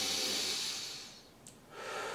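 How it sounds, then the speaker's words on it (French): One person takes a single deep breath as a relaxation exercise begins: a long airy inhale that fades, then a brief exhale, close and alone. "Alors je prends une grande respiration."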